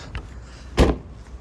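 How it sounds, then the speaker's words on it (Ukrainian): A Renault Megane dCi door opens with a brief soft click, then a louder, fuller thunk of the door moving on its hinges, heard close with no talking. "Дверки всі відкривають, не хрускають, як то буває в меганах"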